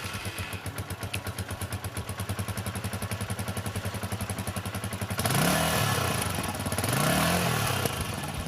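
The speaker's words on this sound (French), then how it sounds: "Il démarre sans brancher, au démarreur ou au kick, avec un échappement discret." Keeway RK 125 single-cylinder four-stroke motorcycle engine running steadily with an even, rapid pulsing idle for about five seconds, then swelling louder and rougher as the revs rise twice in slow surges.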